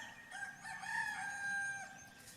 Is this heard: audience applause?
no